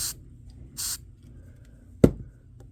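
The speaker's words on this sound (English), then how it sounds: "Silicone lubricant again. Squirt it down into there." Silicone lubricant sprays out in two short hissing bursts, close by and separated by a brief pause, followed by a sharp knock.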